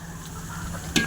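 Onions frying in a pan for biryani, a faint continuous sizzle with a low hum beneath and one sharp stirring clatter near the end, brief and close, no talk.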